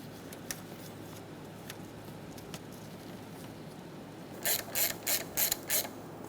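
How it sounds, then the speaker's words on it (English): A ratchet tightens a motor mount bolt on a 2003-2007 Honda Accord, a quick burst of about six sharp clicking pulls near the end after quiet workshop background. "Snug the bolt down and torque it to 8 foot-pounds."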